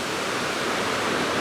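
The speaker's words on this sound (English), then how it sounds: "even though I'm only midway up the waterfall, that's fine, that's plenty." A waterfall on a hiking trail near Taipei, heard from midway up, pours as a dense, steady rushing roar that stays close and even throughout, with nothing else audible.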